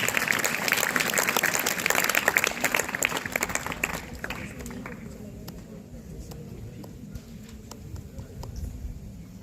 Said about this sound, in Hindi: इन दोनों हमारे विद्यालय के नेतृत्व कर्मियों के लिए जोरदार तालियों के साथ स्वागत कीजिए।